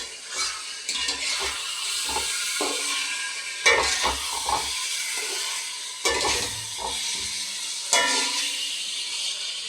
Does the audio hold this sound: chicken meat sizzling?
yes